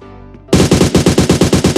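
Automatic weapon fire from PUBG Mobile during a grip recoil test: after a short quiet lead-in, a rapid, evenly spaced burst of about a dozen loud, close shots.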